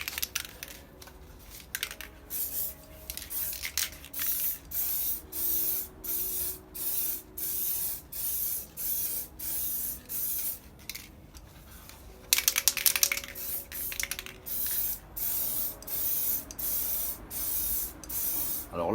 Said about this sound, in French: Alors la bombe, on la tient à peu près à 20-25 cm. Et on fait des passages croisés.